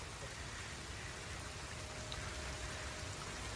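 Steady rain falls on a farm field where onion seedlings are being planted on raised beds, a continuous close hiss of drops on the ground and surfaces, alone and unbroken throughout.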